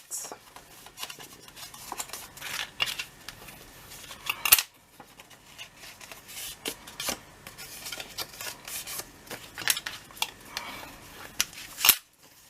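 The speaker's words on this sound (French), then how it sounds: "On marque nos plis et on biseaute." A 12.5 by 8 cm sheet of paper is folded and creased along 1 cm folds, then its corners are bevel-cut with scissors for a scrapbook album, giving close rustling, scraping and snipping with two sharp louder snips.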